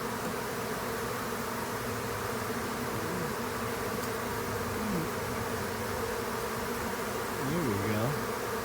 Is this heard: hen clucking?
no